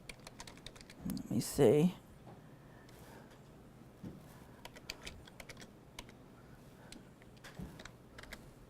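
Typing on a computer keyboard, a run of irregular close key clicks and taps spread across the clip, slow and uneven, with someone speaking briefly near the start.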